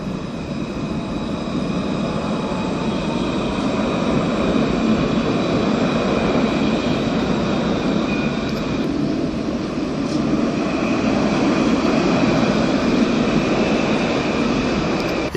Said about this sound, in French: un nouveau tramway.